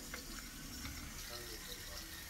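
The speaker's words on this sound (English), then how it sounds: "Make sure you have your water running hot though." Hot water runs steadily from a kitchen tap into a sink, a faint, continuous rushing hiss with no break throughout.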